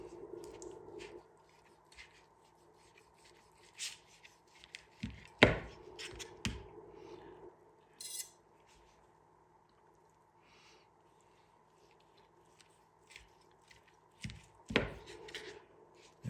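A knife slices into grilled bacon-wrapped pork tenderloin stuffed with green chili and cheese, giving a few sharp, close cutting clicks and thuds against a board, spaced out over a quiet background hum.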